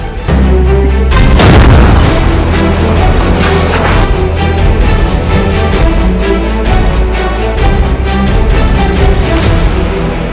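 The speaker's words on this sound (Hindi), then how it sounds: "आईईडी लगाकर उस घर को उड़ा दिया गया" An IED blast brings down a house in Koil, Pulwama, Kashmir: a loud, deep boom bursts early and rolls on into sustained rumbling and crackling debris for several seconds.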